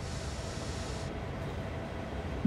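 Train slowing down in the video game Train Sim World 2, a quiet steady rolling rumble of rail wheels and carriage noise with a slight squeal at the very end.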